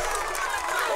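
A Minecraft: Story Mode crowd cheers in a steady, dense roar of many voices, loud and continuous for the full second with no clear breaks.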